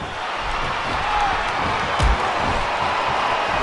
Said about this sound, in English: The fans actually cheering back.